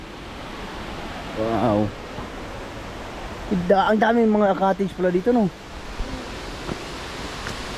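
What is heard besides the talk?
rushing water of Edraline Falls waterfall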